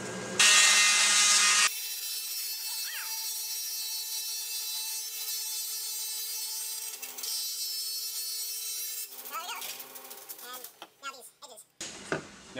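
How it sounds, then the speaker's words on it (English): A metal-cutting bandsaw slicing through a workpiece, a steady loud whining cut with sharp tonal ringing that runs for several seconds, then rougher rasping and clatter toward the end as the cut finishes. "So this is a bandsaw that's capable of cutting metal, and it'll cut through like butter."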